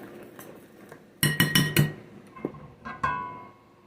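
A cast iron skillet holding butter clanks and scrapes as it is lifted with one hand and set into an oven, giving a cluster of sharp metallic knocks followed by a couple of lighter clinks.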